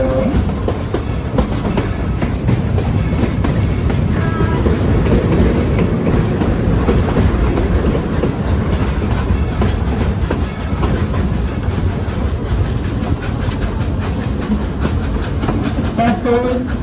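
Riding the Dollywood Express, a No. 70 steam locomotive train, wheels rumble and clatter loudly and continuously from inside the coach, with faint voices mixed in.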